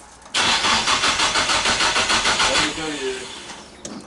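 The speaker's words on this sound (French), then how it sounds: "Vas-y, tu peux démarrer." A Nissan S14 brought back out after sitting for eight months cranks loudly with a fast, even whirring starter rhythm for about two seconds, then the engine settles into a rough, uneven idle, with people talking nearby.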